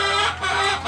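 Layer hens cluck in short, close bursts over a constant background hum, with a few rapid clucks packed into under a second.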